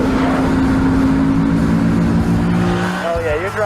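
Mercedes SLS AMG GT3 race car driven hard into a corner, its engine droning loud and close before a sharp downshift and rising rev near the end, with tire noise and a voice talking over it.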